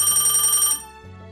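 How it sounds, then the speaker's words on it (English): A phone rings with an incoming call at an izakaya before opening time, a bright repeating electronic ringtone that plays for about three quarters of a second and then cuts off, leaving quiet background hum. "Oh, phone call."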